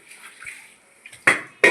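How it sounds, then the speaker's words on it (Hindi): Dishes, pots and utensils being washed by hand, with faint watery rinsing followed by two sharp, close metallic clinks near the end. "मैं धो रही हूँ बर्तन।"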